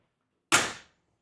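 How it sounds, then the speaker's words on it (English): A single sharp clack as a dog crate door swings shut, close and loud, then a short fading rattle before silence. "now I'm going to shut the door"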